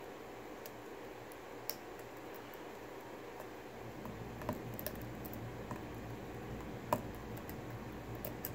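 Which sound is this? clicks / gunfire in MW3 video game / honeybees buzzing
clicks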